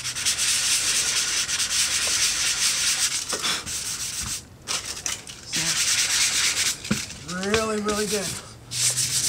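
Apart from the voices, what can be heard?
sanding the pad area of a surface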